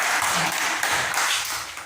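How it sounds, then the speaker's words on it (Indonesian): A classroom of students claps for a pupil, a dense burst of many hands applauding close by that carries on steadily for under two seconds. "tepuk tangan buat anak Rangga"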